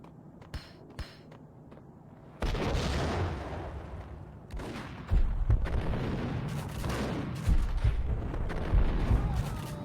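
Heavy blasts and booming gunfire in Max Payne, including a grenade explosion, break in after a quieter start and keep thundering loud and close in repeated bursts.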